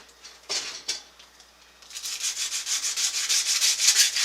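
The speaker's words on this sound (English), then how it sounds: "here I've got a piece of 100 wet dry sandpaper, and I'll go over it" 100-grit wet/dry sandpaper rubs over a vintage Harmony House scale during restoration prep, giving a couple of brief scrapes and then a steady, rhythmic back-and-forth rasp that grows louder and close.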